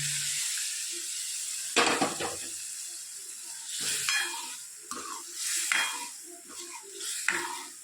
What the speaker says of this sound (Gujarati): મસાલા પણ સરસ શેકાઈ ગયો છે. વટાણા નાખી દઈએ.